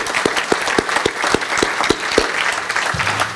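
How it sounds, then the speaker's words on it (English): A gala audience applauds a retiring former SALDEF awardee, with dense, loud, close clapping and a few sharp, evenly spaced claps standing out, fading as a voice begins near the end. "We give him a round of applause for his retirement."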